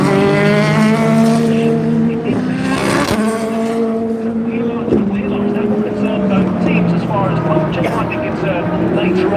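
GT3 and prototype race cars, including a BMW prototype and a Mustang, roar past at Daytona during the Rolex 24 in a loud, continuous engine drone with rising and falling tones, under a commentator talking.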